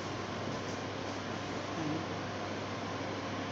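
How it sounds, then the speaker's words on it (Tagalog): Noisy electric fan whirring as a steady, faint broadband hiss with no change throughout. "Maingay ang aking electric fan."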